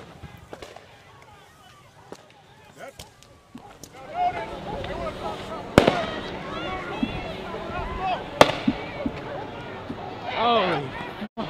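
Tear gas canisters fired during a street clash, two sharp, loud bangs cutting through a clamor of shouting voices and crowd noise.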